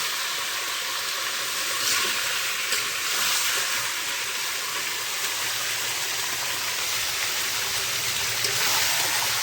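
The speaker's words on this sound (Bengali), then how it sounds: "এইভাবে নেড়ে চেড়ে আমি কষি নেব 5 মিনিটের মতো।" Broiler chicken sizzles steadily in hot oil in a pan while being stirred for a Bengali chicken kosha, a continuous close hiss with faint scraping, no one talking.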